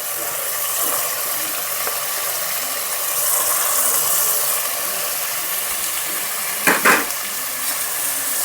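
Washed mutton bones with turmeric and garlic paste fry in a pan, giving a steady, bright sizzle throughout. A couple of sharp scraping clatters from stirring come near the end.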